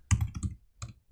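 Keys on a computer keyboard are typed in a short burst of quick clicks, with a brief pause before a final pair of keystrokes, close and fairly loud.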